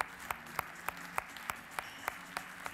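An audience at a ceremony announcing ranked names claps in an even, rhythmic beat, with crisp separate claps about three per second, moderately distant and fairly thin.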